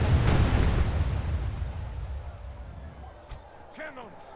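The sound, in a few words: artillery firing canister shot in Medieval 2 video game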